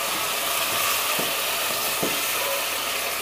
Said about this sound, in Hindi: चिकन को अब हम 5 से 7 मिनट तक फ्राई करेंगे अच्छे से